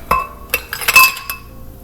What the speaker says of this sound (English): And then I am going to put the ice cubes into the blender.